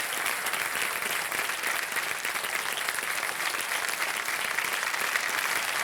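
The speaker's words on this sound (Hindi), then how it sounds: "खड़े होकर के तालियां बजाई जा रही हैं" A studio audience at a TV quiz show rises in a standing ovation for two actresses, with steady, enthusiastic clapping that continues evenly and fairly loud.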